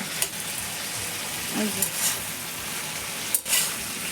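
Mixed vegetables of carrot, spiny gourd, potato and squash with onion fry and sizzle in a pan, a steady hiss broken by a few scrapes and clinks of stirring, while a voice speaks briefly.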